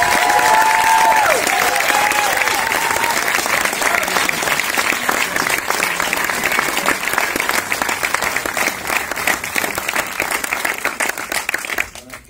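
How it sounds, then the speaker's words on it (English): An audience at a film festival Q&A gives a film director a long, steady round of dense applause, loud at first and gradually thinning, with a few voices calling out early before it stops abruptly. "please, the biggest round of applause you can give"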